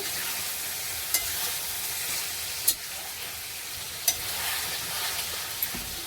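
Chopped tomatoes frying in a pan give a steady, close hiss of sizzling oil, broken by a few sharp clicks, with no voices.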